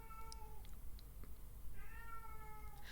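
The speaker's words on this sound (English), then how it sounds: "Somehow it's fitting that I have a cat screaming in the background of this video." A cat screaming in the background of a room, two drawn-out wailing meows separated by a pause, fairly faint and distant against low room noise.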